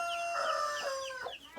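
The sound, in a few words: rooster crowing in a chicken house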